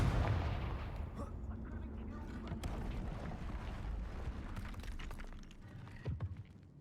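Confringo fire-blast spell from the video game Hogwarts Legacy: a loud, booming explosion with a dense rumbling body that sustains and rolls on, ending in a short crackling burst.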